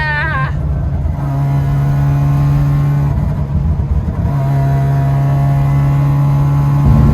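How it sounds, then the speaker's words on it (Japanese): A Mazda RX-7 rotary engine hums steadily and revs up, a smooth droning tone that holds nearly unchanged through the clip, loud and close. "いいロータリーだいい音だ"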